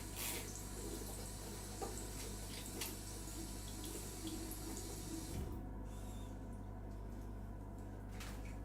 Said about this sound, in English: Is it called a faucet?